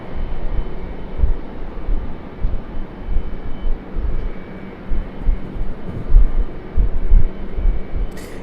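A jet airliner arriving at Raleigh-Durham airport gives a loud, steady roar with low rumbling surges, heard alone and fairly close.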